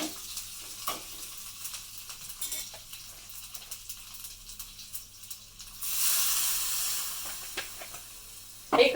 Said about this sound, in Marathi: राई थोडी तडतड व्हायला लागली की याच्यामध्ये आपण टाकणार आहोत लगेचच पाणी